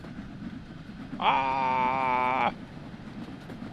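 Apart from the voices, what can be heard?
passing steam train in video game Train Sim World 3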